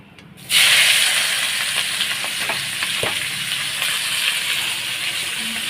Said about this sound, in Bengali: এখন পেঁয়াজটা আমি ভেজে নেব